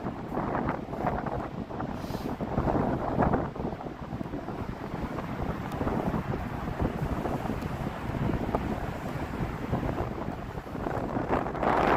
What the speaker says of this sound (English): bear with me out of the wind here